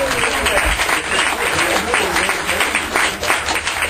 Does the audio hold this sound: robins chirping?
no